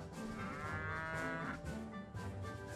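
Cows in the video game Rock of Ages II let out long, loud, drawn-out moos, overlapping at close range and filling the whole stretch.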